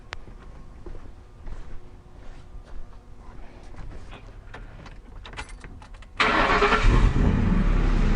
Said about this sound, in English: let's start up this vehicle